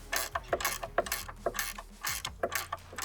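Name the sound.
tightening a nut on a folding saw horse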